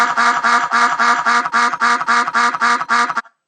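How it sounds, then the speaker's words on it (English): A toy robot duck triggered by a Scratch-programmed proximity sensor quacks loudly and close, in a rapid regular run of about ten evenly spaced quacks that stop abruptly. "All of a sudden, it's a lot of quacking."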